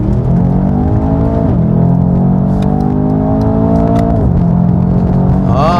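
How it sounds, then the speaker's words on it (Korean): A Mercedes-AMG S63 with a 4.0 engine makes a race start. The loud engine roars close by and climbs in pitch through repeated gear shifts as it accelerates hard. "레이스 스타트를 시도를 해봤는데요, 아주 눈 깜짝할 사이에 속도를 끌어올립니다"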